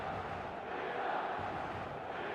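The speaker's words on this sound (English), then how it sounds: "The stadium is full of noise and energy." Stadium crowd in the eFootball football video game: a steady, dense roar of many voices that holds at an even level for the whole stretch, with no distinct chants or single voices.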